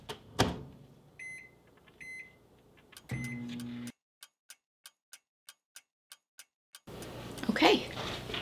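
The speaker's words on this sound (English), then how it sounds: "So I'm putting mine in the microwave for 50 seconds." A microwave counts down from 50 seconds cooking a keto chocolate mug cake, with a steady series of sharp electronic beeps, evenly spaced, set between louder bursts of kitchen handling noise.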